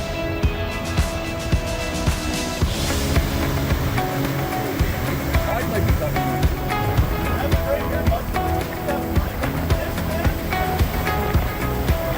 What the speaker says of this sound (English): the waves were definitely rough